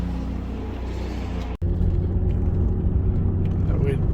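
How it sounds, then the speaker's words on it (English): A Mercedes W126 300 SE cruises on a hot Sydney summer day, giving a steady low road rumble and engine hum from inside the cabin, with a brief dropout midway. "We're just driving the 300 SE."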